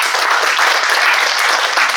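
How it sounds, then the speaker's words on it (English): An audience at a business expert session claps together, a loud, continuous burst of many hands that holds steady for the whole moment. "Let's clap for him."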